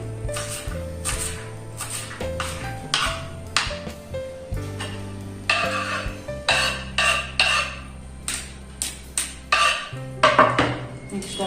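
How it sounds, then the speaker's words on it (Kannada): A knife chops vegetables on a board for palya, a Kannada vegetable stir-fry, in a home kitchen. The quick, regular strikes repeat steadily at close range over a faint tonal background. "ಸೊ ಪಲ್ಯಕ್ಕೆ ಹೆಚ್ಕೊಳ್ತೀನಿ"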